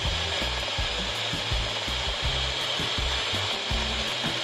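An electric mixer whips two egg whites in a bowl until stiff, a loud, steady motor whir with rhythmic knocking of the beaters against the bowl, close and uninterrupted.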